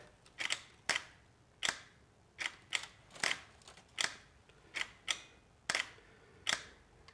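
Camera shutter clicks sharply about a dozen times at an irregular pace while photographing a house interior for bracketed negative exposures, each click crisp and close with quiet gaps between.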